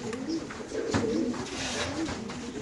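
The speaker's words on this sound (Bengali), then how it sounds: "রেড চেকার কবুতর আছে এখানে মাশাআল্লাহ, দেখতে পাচ্ছেন" Red checker pigeons cooing in a cage at a pigeon farm, a steady overlapping coo with rolling throaty pulses throughout, close and moderately loud with no talk.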